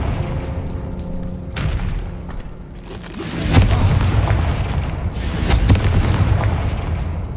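In Hogwarts Legacy, a Confringo spell goes off as a loud booming blast over a dense, rumbling game soundscape that swells and stays heavy after the hit.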